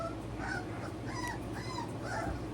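A puppy whimpers in several soft, high, wavering whines over a steady background hum, with no talking.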